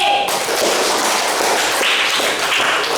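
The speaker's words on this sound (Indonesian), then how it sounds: "Oke, kita beri aplaus kepada kelompok B." A class of students applauds group B, a dense, steady burst of many hands clapping together in a room, loud and sustained for a few seconds.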